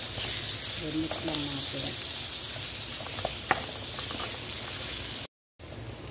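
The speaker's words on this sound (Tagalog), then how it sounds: "Ayan yung ating fried rice for my breakfast." Egg and rice frying together in a pan for breakfast fried rice, a steady loud sizzle with light stirring clicks, while someone speaks briefly over it.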